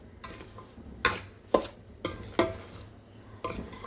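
Semolina is stirred and roasted in a pan, with soft scraping and a series of sharp metallic clinks of a spoon against the pan at irregular intervals, fairly quiet and close.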